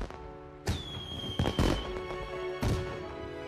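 Fireworks bursting in the night sky, several sharp loud bangs spaced a second or so apart, each followed by crackling decay, with one rising whistle trailing after the first burst.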